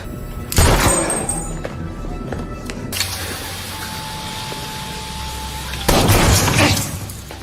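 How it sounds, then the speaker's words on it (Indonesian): Bursts of gunfire and loud impacts from a film shootout arrive in two dense, harsh clusters, with a quieter tense stretch between them. "terjadi baku tembak antara mereka"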